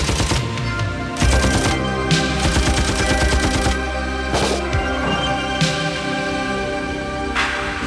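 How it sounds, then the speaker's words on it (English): Gunfire in a civil war zone in Chechnya, a dense, continuous stream of loud shots and rapid bursts with no speech. "Two sides shooting at each other indiscriminately, with innocent civilians caught in the crossfire."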